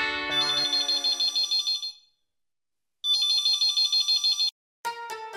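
An outgoing phone call rings back in repeated electronic trilling bursts, a long ring, a pause of silence, another ring, then a different tone begins.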